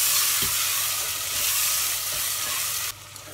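Chopped tomatoes, cut fairly coarse, sizzle loudly in a pan over cooked onions for Rajasthani panchmel dal, a steady bright hiss with a stir or clink near the start, dropping quieter at the end.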